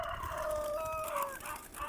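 A chicken's drawn-out, tonal call rises and falls, with soft clucks nearby, fairly close against a quiet farmyard background.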